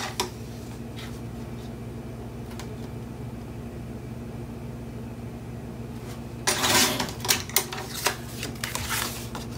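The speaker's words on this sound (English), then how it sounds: "So I'm going to trim down my red." Red cardstock trimmed for a Christmas scrapbook page, a quiet faint hum for most of the stretch, then a short burst of crisp cutting and slicing noises near the end, with no talking.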